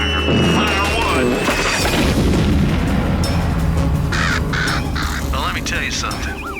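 Crows caw loudly over a busy, dense soundtrack of booms and mechanical noise, with voices talking throughout.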